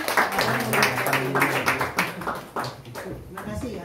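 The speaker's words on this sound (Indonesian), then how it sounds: "Tepuk tangan untuk mereka semua." Church congregation clapping at a Christmas worship service, a dense run of handclaps mixed with voices and background music, fairly loud throughout.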